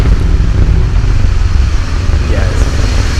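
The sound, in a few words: Atlas V rocket engines roaring during launch ascent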